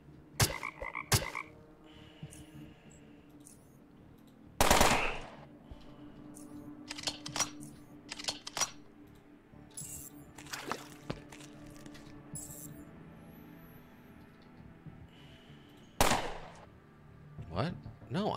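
Sniper rifle gunfire in the video game UnderRail: a few sharp, loud single shots spaced well apart, one near the start, one mid-way and one late, over quieter game sounds and clicks.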